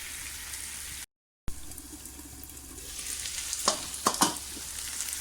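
Liver with chopped green chillies cooks on a tawa, a soft continuous sizzle broken by a brief dropout, then louder scraping stirs and spatters near the end, with no voices.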